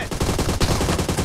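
Rapid automatic gunfire from PUBG Mobile, a close, loud burst of about a dozen evenly spaced shots rattling off in quick succession with no talk over it.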